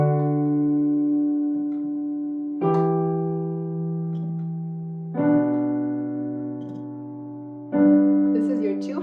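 Beginner two-hand piano song, played with the sustain pedal held through each chord: four struck piano chords spaced about two and a half seconds apart, each ringing and slowly fading into the next, with no talking.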